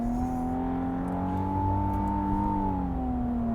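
A 2025 Infiniti QX80 with a 9-speed transmission accelerating, its engine a steady close drone with slowly rising pitch and no shift break.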